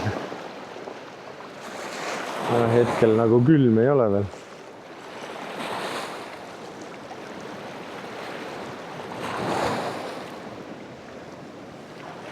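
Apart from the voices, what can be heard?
waves splashing against legs while fishing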